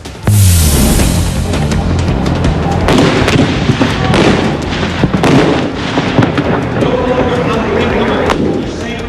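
A single loud blast opens a disaster-preparedness demonstration, a sudden deep boom that rolls on into a long, thunderous rumble and crackle lasting several seconds.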